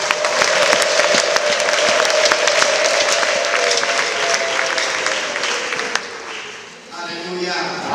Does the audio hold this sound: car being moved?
no